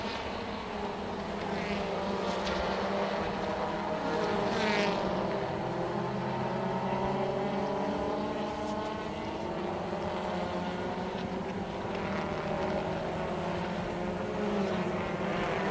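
Honda touring cars in a 2014 WTCC race, engines droning and climbing in pitch as they pass and overtake, a continuous layered roar of several cars at distance with no talk.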